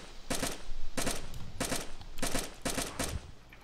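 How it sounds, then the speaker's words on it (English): Rapid bursts of automatic gunfire from the video game DayZ, four loud volleys of rattling shots spaced about a second apart, with no talking. "Damn, tons of shots."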